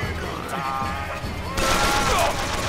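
Gunfire in the video game BioShock Infinite, a quick burst of sharp shots with clattering impacts that swells louder in the second half, mixed with game effects.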